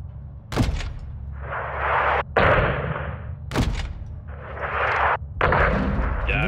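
Artillery rounds firing in the video game Modern Warfare II: two heavy booming shots about three seconds apart, each followed by a long roaring rush and rumble, loud and close with a steady low drone beneath.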